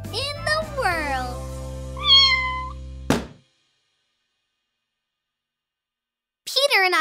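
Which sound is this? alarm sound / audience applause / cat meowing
cat meowing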